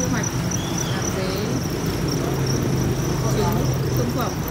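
Crickets raised on a cricket farm keep up a continuous high, steady trill over a low background hum.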